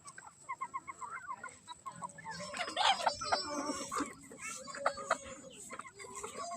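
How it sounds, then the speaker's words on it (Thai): Chickens and ducks on a farm cluck and squawk as they are chased, with repeated close calls that rise into a busy flurry around the middle, over steady outdoor background noise. "เฮาสิไปไล่เป็ดไล่ไก่"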